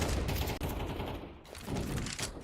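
Dense bursts of gunfire fill a Counter-Strike match in a CCT East Europe playoff game, overlapping rapid shots and a short pause before another flurry, loud and continuous.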